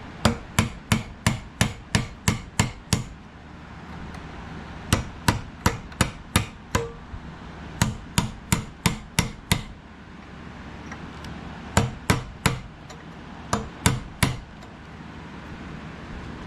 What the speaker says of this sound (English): I'm not going to beat on this hard. I'm just going to tap.